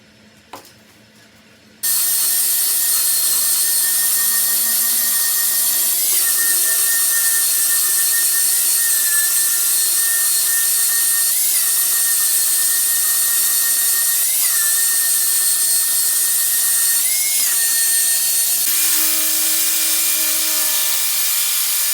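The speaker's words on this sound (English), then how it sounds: "and then you're going to hit those with the belt sander." Belt sander flattening a wooden farmhouse table top: after a short quiet start, a loud steady whining roar runs continuously, with faint periodic pitch wobbles as the sander passes back and forth over the wood.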